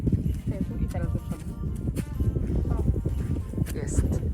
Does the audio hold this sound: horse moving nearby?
yes